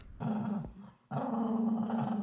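A dog growls low and close in two sustained rumbling stretches broken by a short pause, with no talking.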